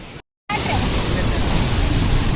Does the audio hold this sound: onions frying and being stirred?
no